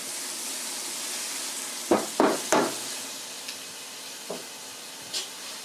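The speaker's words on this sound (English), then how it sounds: "Do a little stir." Vinegary food with salt being stirred in a pan, a faint constant sizzle with a quick cluster of three scraping strokes, then a few lighter, scattered scrapes and taps.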